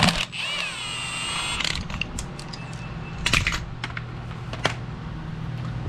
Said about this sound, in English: Take off this tensioner pulley,